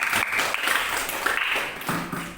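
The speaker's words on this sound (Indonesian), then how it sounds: "tepuk tangan untuk kelompok" A classroom group of students claps for a class group, a short burst of dense, fairly loud applause filling the room.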